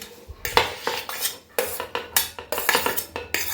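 Chopped onion mixed with a spoon in a bowl, with repeated clinking scrapes and clatters against the bowl in an uneven rhythm, close and fairly loud, no talking.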